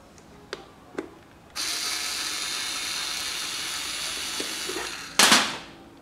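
Phillips screws come out of a Yamaha XV 250 Virago air filter box: a few faint clicks and scrapes of a screwdriver, then a sustained hiss in the middle, ending with a sharper plastic rattle.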